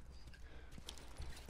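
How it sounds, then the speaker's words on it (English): Horse hooves clip-clopping in The Last of Us Remastered video game: soft, quick, steady hoof steps under faint game ambience, low in level and fairly distant, no talking. "Goodbye, horse."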